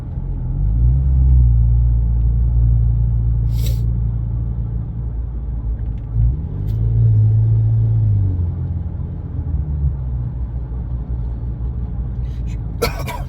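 Steady low rumble and road noise inside a Ford Maverick with a custom exhaust cruising on the interstate, the engine drone swelling and easing gently, with a brief cough-like sound from inside the cab.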